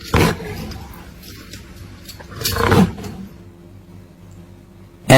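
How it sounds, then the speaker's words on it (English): An animated lion in a children's alphabet song gives two loud roars a couple of seconds apart over a quiet backdrop. "L for lion."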